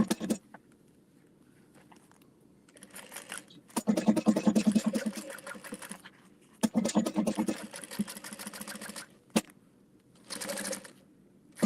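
A sewing machine top stitches a beauty bag flat all the way across, running in several close bursts of rapid mechanical whirring separated by quiet pauses.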